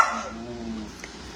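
A dog gives a single short bark up close, followed by a brief quieter tail of sound, with no talk over it.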